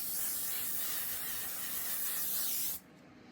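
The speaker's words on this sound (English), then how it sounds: "L'Oreal Infallible 3-second setting mist has been a big favourite of mine during this weather" A L'Oreal Infallible setting mist spray releases one long continuous hissing burst of fine mist, close and loud, for nearly three seconds before stopping abruptly.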